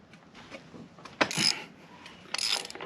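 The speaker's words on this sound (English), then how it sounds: "Now you can turn your crankshaft." Ratchet turning the crankshaft of a Honda H22 stroker engine during a timing belt job, giving close mechanical clicking bursts and a louder ratcheting sweep, then another burst of clicks.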